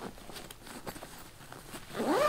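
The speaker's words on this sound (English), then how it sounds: "I have to kind of squeeze to zipper this up" A stuffed Kemimoto saddlebag liner bag being zipped shut, a quick rising zip near the end following soft rustling and handling of the packed fabric.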